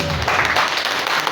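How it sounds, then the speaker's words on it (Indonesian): An audience at a journalism talk gives a short burst of clapping, a brief, dense patter of hands heard at moderate volume. "itu boleh kita beri tepuk tangan dulu buat teman-teman"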